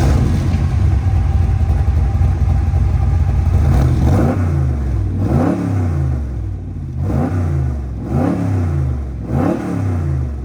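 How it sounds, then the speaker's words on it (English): A 1965 Shelby Backdraft Cobra engine idles with a deep rumble, then revs sharply four times in a row, each blip rising and falling, close and loud. "I love the way the car twists a little bit in between the revs."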